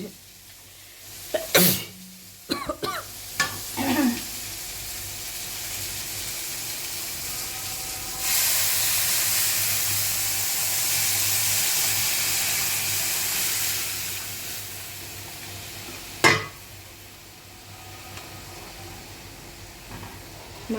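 Dal hits a hot pan of prawns cooked with salt, turmeric and masala, raising a broad steady sizzle that holds for several seconds between clattering knocks and handling noises, with faint voices nearby.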